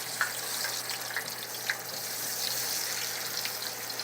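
Potatoes frying in grease in a pan, a steady broadband hiss and sizzle with a few faint pops and crackles, close and continuous, no talking.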